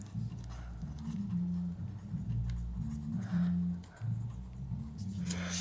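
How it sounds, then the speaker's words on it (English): Pen or marker sketching a deflected shape during an engineering tutorial, heard as continuous close scratchy strokes and short squeaks with brief pauses between lines, without speech. "I'll sketch the deflected shape for you"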